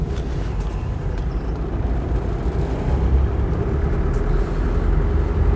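A Land Rover 90 with a 2.5TD engine pulls away in third gear, heard from inside as a deep, steady engine rumble with road and wind noise that grows slightly louder partway through.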